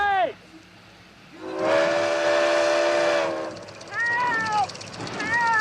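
A train whistle sound effect blows on a film set in long, loud sustained steam-whistle tones, with a break and then shorter falling blasts, while voices are briefly heard.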